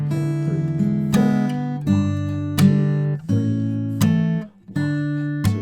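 Acoustic guitar fingerpicking the second line of the tab for a song, a steady picked pattern of bright plucked notes with strong bass strums recurring about every 0.7 seconds, played alone with no voice.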